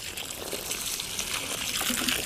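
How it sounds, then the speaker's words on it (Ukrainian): Water from a garden watering pours steadily onto plants and loosened, hoed soil, a continuous close splashing gush with no one talking. "Ось дивіться, я поливаю, вода що тече, розтикається"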